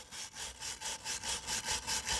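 A wire brush scrubbing rusty gas furnace burners by hand, with about ten rhythmic back-and-forth strokes that are close and moderately loud, with no talk.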